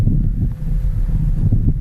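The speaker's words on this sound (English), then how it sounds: "The sound of wind." Wind blows steadily across open, rugged land, a low continuous rumble and buffeting with faint rustling, heard alone without voices.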